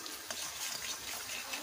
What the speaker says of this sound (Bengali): ভালোভাবে কষে নেব